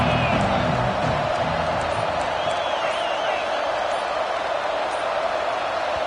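A college football stadium crowd roars in a loud, sustained wall of cheering while a commentator talks over it, with no clear breaks or peaks in the noise.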